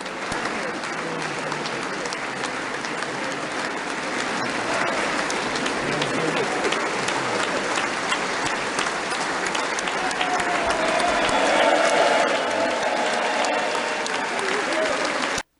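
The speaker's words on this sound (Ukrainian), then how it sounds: "президент України виступив перед конгресом, де його привітали стоячи з оплесками" A standing ovation in the US Congress for Ukrainian President Zelensky, a long, loud, dense roar of clapping from a large chamber crowd that swells toward the end, with cheering mixed in.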